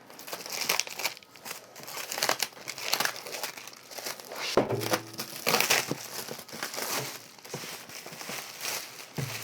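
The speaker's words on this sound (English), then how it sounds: "take our lucky knife and just kind of cut the plastic right in here" A knife slits and tears the plastic wrapping off the retail box of a Logitech ScanMan 256 handheld scanner, giving a steady run of close crinkling, ripping and crumpling noises that stay loud throughout.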